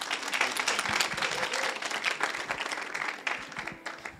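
Crowd at a church missions and worship event clapping with distinct individual claps, lively and close, thinning slightly toward the end.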